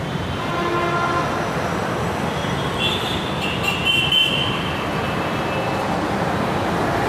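A Hyderabad metro train rumbles steadily at the station, with a brief high squeal from the wheels or brakes midway, loud and continuous, with no talking.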